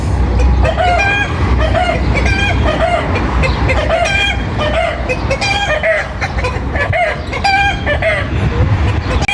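A flock of chickens clucks busily nearby while a rooster crows repeatedly, loud and continuous.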